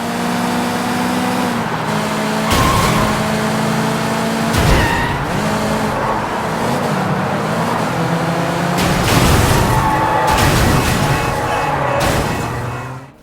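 Cars race and skid through neon-lit city streets in the Sleeping Dogs: Definitive Edition video game, a loud continuous engine drone with repeated tire screeches and impacts.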